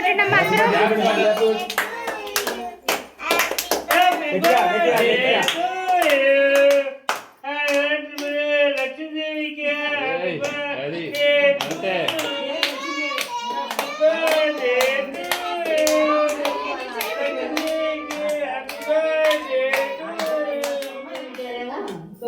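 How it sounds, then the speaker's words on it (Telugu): Children clap at a birthday celebration: a few sharp hand claps open, then steady rhythmic clapping continues close by under children's singing voices. "క్లాప్స్"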